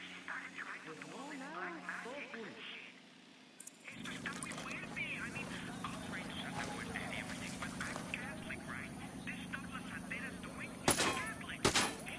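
Gunfire in the Ghost Recon Wildlands video game, scattered shots amid game ambience and radio-style chatter, with a couple of louder sharp cracks near the end; voices speak throughout.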